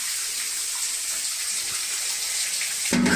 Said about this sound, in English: Luego se abrió la regadera sola.